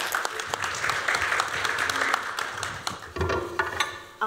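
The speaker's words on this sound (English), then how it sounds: "Let's give them a round of applause." A crowd at a panel event claps in sustained applause, dense and fairly loud, with a brief dip before the clapping swells again.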